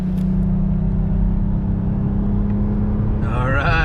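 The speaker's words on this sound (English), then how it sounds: "First time getting on the freeway with the old side-by-side behind." Steady engine drone and road rumble from a Jeep Gladiator JT cruising on the freeway while towing a Can-Am Commander side-by-side on a trailer, loud and continuous, with a brief voice near the end.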